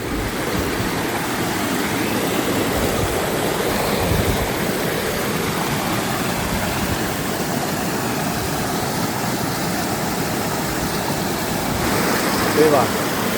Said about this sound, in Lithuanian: Kalnų upė.